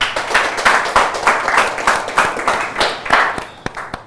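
Applause for a contestant on a televised quiz show, a steady round of hand clapping from a studio audience that thins out toward the end with a few scattered claps.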